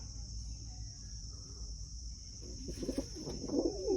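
Low, soft pigeon coos rise up close in the second half, over a thin, steady high-pitched buzz like insects.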